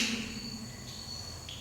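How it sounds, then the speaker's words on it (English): Cicadas chirp outside a quiet room at a paranormal investigation site in Battery Way, Philippines, giving a faint, steady high-pitched drone with a soft low hum beneath. "I can hear some cicadas outside chirping"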